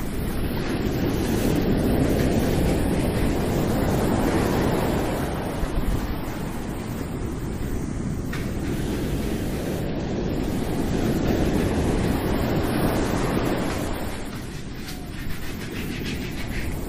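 Shower water streaming steadily while a brush scrubs the back, a dense continuous wash of spray that stays close and fairly loud throughout with slight swells.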